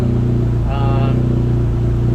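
A Dodge SRT-4 with a boosted engine running after a new fuel system build: a loud, steady idle with a deep pulsing drone close by, plus a brief higher whine partway through.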